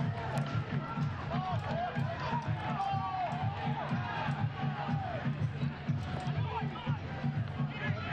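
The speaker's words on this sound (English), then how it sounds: "Most on their feet here for the final minutes, trying to urge their side onto an equalizing goal" Socially distanced crowd at about 25% capacity at BBVA Field cheering a Birmingham Legion FC vs. North Carolina FC football match in the final minutes; sustained distant crowd noise and shouting, with commentary talk over it.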